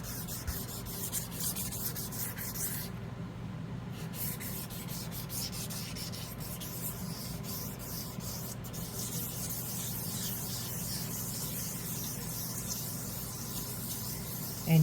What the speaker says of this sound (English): as you sand, you'll notice that your surface gets smoother and smoother with every change of